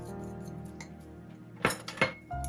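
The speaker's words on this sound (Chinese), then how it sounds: "用筷子将干粉搅拌均匀" Chopsticks stirring high-gluten flour and salt in a bowl, several light clinks and taps against the bowl's side, close and fairly quiet, with a dull knock near the end.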